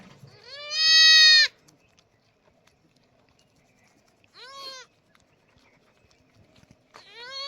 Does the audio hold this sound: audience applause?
no